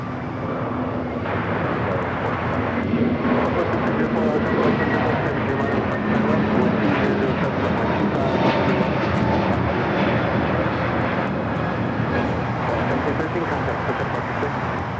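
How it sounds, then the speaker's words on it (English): A United Airlines Boeing 787-9 Dreamliner takes off at LAX with a steady, broad jet-engine roar that holds throughout, and a voice talks over it. "Another Dreamliner going to be taking off here on the south side."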